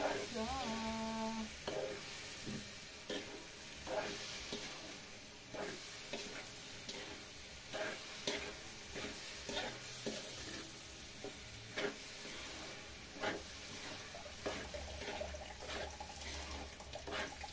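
Black glutinous rice (biko na tapol) being stirred in a pan, with repeated soft scraping strokes and a faint sizzle, quiet and close.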